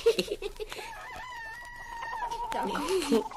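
Chickens and a rooster cluck and crow in a radio play, loud close squawks at the start and again near the end around a sustained, wavering crow in the middle.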